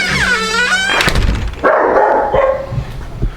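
Dog barking loudly indoors in several sharp, close bursts, with a high whine or yelp at the start and no talk.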